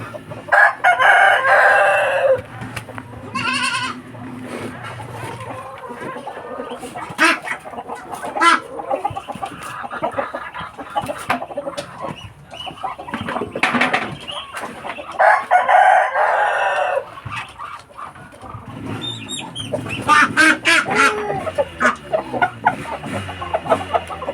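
Backyard chickens cluck close by while a rooster crows loudly several times over the flock, at a rural provincial home, with no talk over the calls.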